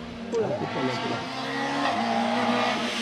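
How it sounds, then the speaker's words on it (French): A Citroën C2 race car, number 145, passes close by at a 2022 hill climb in Herenguerville-Quettreville. Its engine rises and falls through the gears, and tires squeal briefly while a voice talks over it. "joli passage de la part du pilote de la C2 numéro 145 à l'instant, là devant nous"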